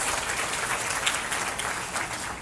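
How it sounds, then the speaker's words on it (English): Audience applause at a Leo club presentation in South Africa, a dense steady wash of many hands clapping at moderate level for the whole stretch, with no voices standing out. "Let's give them a round of applause, guys."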